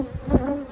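Honey bees at an apiary hive make a close, droning buzz that swells briefly as one flies past, with no talking.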